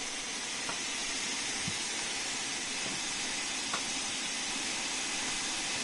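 Steam locomotive cylinder cocks in Train Sim World 4 let out a steady, loud broadband hiss that runs unbroken throughout, with a few faint clicks beneath it.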